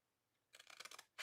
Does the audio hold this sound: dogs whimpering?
no